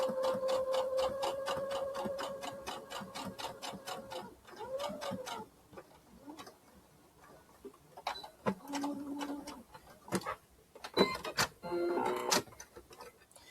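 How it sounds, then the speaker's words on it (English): A sewing machine stitches a fabric popsicle holder to the end of the seam, giving a steady rapid mechanical chatter for about four seconds. Several shorter bursts of stitching follow, broken by handling clicks and quieter pauses. "I'm just going to sew this all the way to the end"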